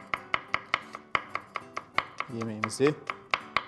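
A knife chops garlic finely on a cutting board in rapid, evenly spaced sharp taps, close and crisp, with a brief spoken phrase from a man partway through.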